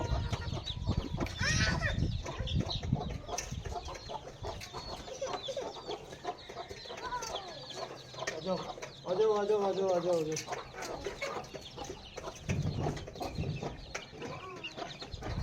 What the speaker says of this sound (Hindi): अच्छा, तो ये मुर्गा किस नस्ल का है?